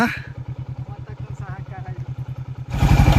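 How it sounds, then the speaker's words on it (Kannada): A motorcycle labours up a steep hill road to Male Mahadeshwara Hills. Its engine thumps in a loud, even pulsing beat that grows heavier near the end. "ಪಾಪ ನನ್ನ ಗಾಡಿ ಬಹಳ ನರಕ ಪಡ್ತೈತೆ ಹೆಂಗೈತೆ ನೋಡಿ"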